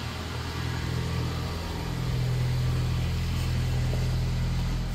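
A Ford Bronco engine idling in park, a steady low rumbling drone close by that swells slightly partway through and holds even, with no talking.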